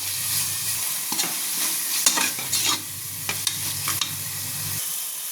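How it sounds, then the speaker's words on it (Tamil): Onions with ginger garlic paste and garam masala sizzle and fry steadily in a pan while a utensil stirs and scrapes against it in short clattering bursts. "இது நல்லா வதக்கிக்கலாம். வெங்காயத்தில் அப்படியே கரம் மசாலா போட்டுக்கலாம்."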